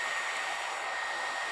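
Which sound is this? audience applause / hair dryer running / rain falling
hair dryer running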